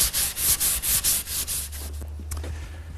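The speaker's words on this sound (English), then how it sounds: "A little bit of final sanding." Rhythmic back-and-forth strokes of sandpaper on the wood of a homemade chaise lounge during final sanding. About eight quick, close scratchy passes come in a steady rhythm, then a lower steady hum takes over.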